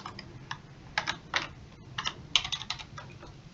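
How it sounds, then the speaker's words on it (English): Rapid keystrokes on a computer keyboard in short bursts, close and clear over a quiet background, while a search term is entered into a GIS mapping tool. "So if I do type in food pantry"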